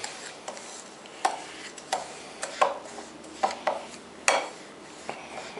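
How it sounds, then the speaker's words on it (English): Spoon mashing a chocolate cheesecake mixture in a bowl, heard as scattered clinks and scrapes against the dish, irregular and close, with no voices. "what I'm doing right now, which is just mash it up with a spoon"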